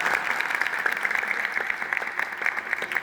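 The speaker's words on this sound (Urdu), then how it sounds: "اس کی موجودگی کے لیے ہم زور پر تالیاں بجائیں" Loud, dense applause from a church congregation fills the whole stretch, steady and continuous with no talk over it.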